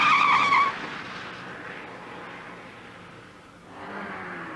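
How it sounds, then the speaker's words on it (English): A white Austin Montego speeds away with a brief loud skid and tire squeal at the start, then an engine roar fades into the distance before a car sound rises again near the end. "A white Montego flew past me, going at a crazy speed."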